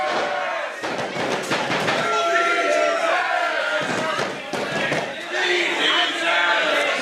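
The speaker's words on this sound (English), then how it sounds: "Crowd cheering for Bryce Cannon" Arena crowd at a live professional wrestling event cheers loudly and continuously for the wrestler Bryce Cannon, a dense roar with shouts and thuds from the ring, while a commentator talks over it.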